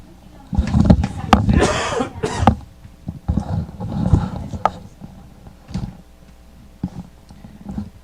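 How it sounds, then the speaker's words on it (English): A man coughs repeatedly in a rough fit of harsh bursts, then a few scattered, quieter coughs and throat sounds follow, during a bantam football game commentary. "My coughing fit there."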